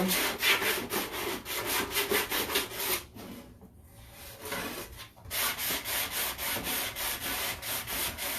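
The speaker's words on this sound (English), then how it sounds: "I'm going to sand in the inside a little bit too." Rapid back-and-forth sanding strokes scrub across the inside of a piece of thrifted wall decor, loud and close, pausing briefly in the middle before the steady rhythmic rasping resumes.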